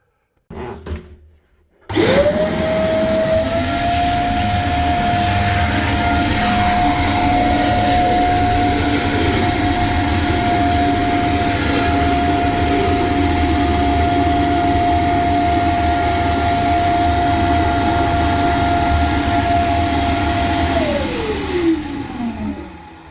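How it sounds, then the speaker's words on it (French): A small wet vacuum starts with a rising whine and runs loud and steady for about twenty seconds while sucking up leftover water from a portable baptistery, then winds down at the end. "je vais prendre l'aspirateur à eau et enlever ce reste d'eau avec"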